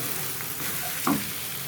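Fish fries on a flat tawa with a soft continuous sizzle, close and fairly quiet, with a brief louder crackle partway through and no voices.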